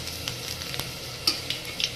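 Ginger and panch phoron fry in oil with a soft, low sizzle, punctuated by several light taps and clinks of a utensil against the pan.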